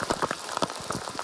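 Rain patters steadily onto Zach Woods Pond in Vermont on a rainy fall day, a dense close hiss of drops with no voices.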